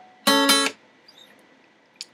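Two quick strums on an acoustic guitar, a down and then an up stroke, ring out close and bright from a chord in a song, then fade into near silence with a faint tap.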